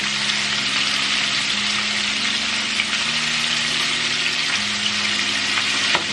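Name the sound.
corn on the cob deep frying in oil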